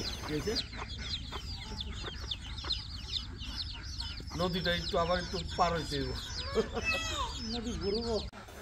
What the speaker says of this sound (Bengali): বাড়ির উঠানে পলোর ভেতর অনেকগুলো হাঁস ও মুরগির বাচ্চা দেখতে পাচ্ছি।